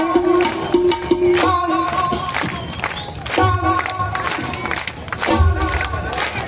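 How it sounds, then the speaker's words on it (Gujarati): An audience at a devotional singing event claps along in a steady rhythm, the clapping close and loud, mixed with devotional singing and crowd voices. "તાળી પડે છે કે નહીં હવે ખબર પડે"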